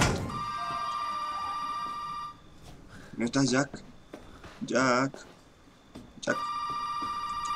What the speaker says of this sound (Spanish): Teléfono que suena.